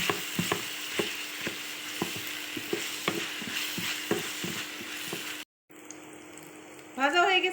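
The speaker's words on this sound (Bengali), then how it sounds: "ভালো করে ভেজে নেবো আদা রসুন বাটা" Ginger-garlic paste fries in a pan with a continuous, moderate sizzle. Regular clicking strokes from stirring run through it, and there is a short pause before a final scrape.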